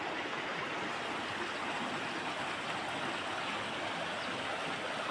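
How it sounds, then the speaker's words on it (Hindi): A small river flows near a village bridge in the hills, giving a steady, full rushing and burbling water noise that stays constant and close throughout, with no voices. "ये नदी हमारे छोटे से गांव के पास की है और ये छोटा सा पुल यहाँ पे।"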